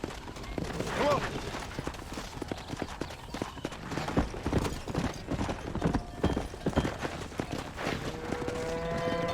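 Horses in Red Dead Redemption clop along in an uneven, busy rhythm of hooves, with a brief whinny early on, while a man calls out to the animals over the trotting.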